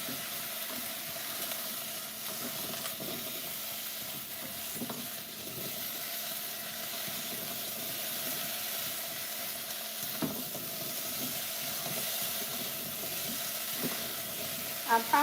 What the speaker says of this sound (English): I'm gonna use this silicone spatula and just kind of swirl it around to mix up that salt and pepper